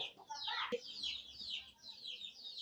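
Free-range village chickens cluck close by, a burst of quick clucks followed by a softer run of clucking, with no other clear sounds.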